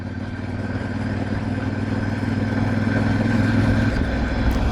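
A VOGE 800 Rally motorcycle engine runs steadily for the whole stretch, a loud, even mid-pitched drone with a faint rattly texture and no talking over it.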